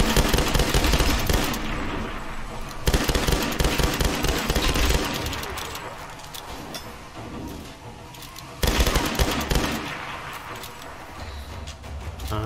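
Dense bursts of gunfire in the Tomb Raider video game: loud, rapid volleys and booming shots that run continuously over a low rumble, with short lulls between the heavier salvos.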